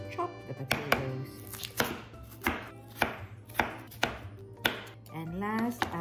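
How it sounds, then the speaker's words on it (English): Knife chopping peeled potatoes for a Filipino nilaga stew, sharp evenly spaced chops landing about once every half second, close and distinct over a steady low hum, with no talking. "Now let us chop the potatoes."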